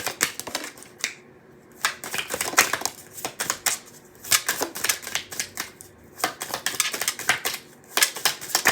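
Tea leaf oracle cards shuffled by hand, a close run of crisp riffling bursts in repeated clusters with brief pauses between, no speech.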